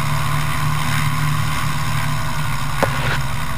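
Light aircraft engine holding a steady drone through a propeller run-up check, a constant low hum with a brief sharp click near the end, heard close from inside the cockpit.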